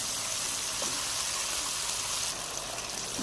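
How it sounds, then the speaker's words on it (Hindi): Steady rushing of water being poured into a jug, a continuous broadband splashing that runs the whole time with no talk over it. "थोड़ा सा इसमें पानी डालेंगे।"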